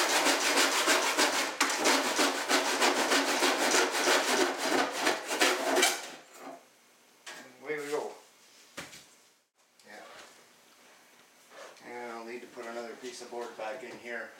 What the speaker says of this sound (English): The last little bit I'm just going to have to do with the hacksaw